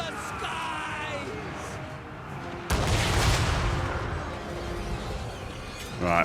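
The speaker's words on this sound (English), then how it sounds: "we're going to have the cannons stop firing now" Great cannons fire during a Total War: Warhammer III battle, a sharp heavy boom erupting mid-clip into a rolling roar of distant battle, layered under someone talking and other combat noise.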